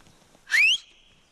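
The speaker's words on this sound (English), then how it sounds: "My whistle could be mistaken for a bird off in the distance." A single short, sharp rising whistle blown with the mouth outdoors in Romania, bright and clear, lasting under half a second against near silence.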